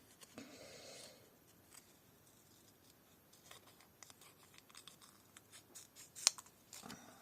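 Scissors snip around stamped paper, quiet close crisp cuts coming in small irregular bursts with handling rustles between them.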